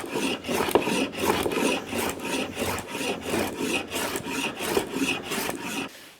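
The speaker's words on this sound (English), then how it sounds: "the plane is the way to go." A sharp hand plane shaves a live edge wooden desk top with knots, giving a steady series of rasping strokes, each a loud close swish at an even rhythm, with no talk.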